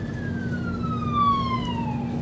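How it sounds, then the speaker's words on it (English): A fire rescue vehicle siren wails with a long descending tone, heard steadily over road noise at moderate distance. "An ambulance coming here."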